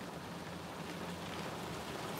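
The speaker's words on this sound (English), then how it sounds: "Now it's raining." Rain falls steadily and blows in through an open car window during a storm in Daytona Beach, a faint, even hiss of drops with no voices.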